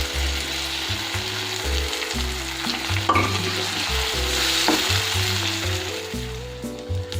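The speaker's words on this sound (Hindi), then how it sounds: "अंडे लिए हैं 3 अदद, इसको मैंने फेंट लिया है और वो इसमें डाल दूंगी।" Three beaten eggs hit a hot pan for anda ghotala, crackling and sizzling steadily while a utensil stirs them with repeated scraping strokes, close and moderately loud.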